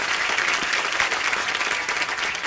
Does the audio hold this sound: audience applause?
yes